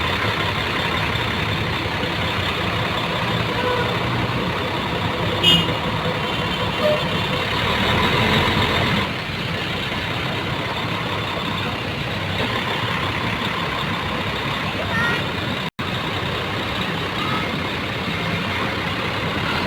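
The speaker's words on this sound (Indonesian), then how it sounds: "Jadi proses busnya diparkir di sini di parkir." A luxury bus sits idling in a departure parking area, its engine giving a steady, continuous low rumble with a brief swell midway, close and unbroken for the whole stretch.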